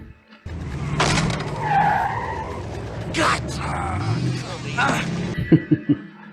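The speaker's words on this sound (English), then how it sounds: "Oh, there's the car coming." A motorhome drives in a 1987 horror film, engine rumbling and tires skidding into a squeal near the end, under steady talk from people watching.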